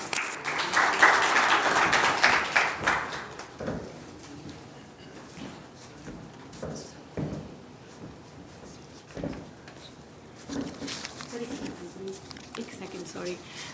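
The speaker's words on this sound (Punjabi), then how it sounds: "ਬਹੁਤ ਸਾਰੀਆਂ ਤਾਲੀਆਂ ਦੇ ਨਾਲ ਅਸੀਂ ਸਵਾਗਤ ਕਰਾਂਗੇ ਡਾਕਟਰ ਕੁਲਦੀਪ ਸਿੰਘ ਜੀ ਦਾ" An audience at a talk claps in welcome for Dr. Kuldeep Singh, with a dense burst of applause for the first few seconds that fades out as a speaker's voice takes over.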